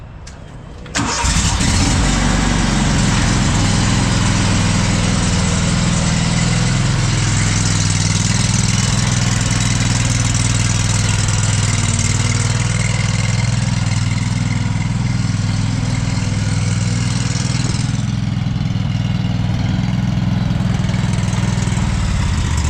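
A Scag Windstorm debris blower engine fires up in the first second, then settles into a loud, steady, close idle with a deep rumble that runs unbroken to the end.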